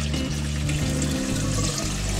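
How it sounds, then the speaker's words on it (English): Water pours steadily through a mesh filter sock in a saltwater aquarium sump, a loud continuous close rush and gurgle with no pauses or talk. "So the water is going to be filtered through the mesh sock"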